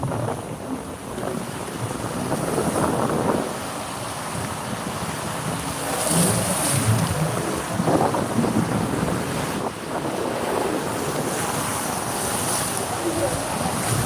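Sea waves surging strongly along a Thai shore, a steady broad wash of surf with wind buffeting the microphone throughout, loud and continuous with swells rising and falling.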